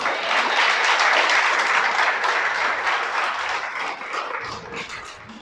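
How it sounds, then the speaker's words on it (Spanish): An audience breaks into applause at a religious sermon, a dense, fairly loud wash of clapping that swells early and slowly fades toward the end. "Un aplauso al Creador."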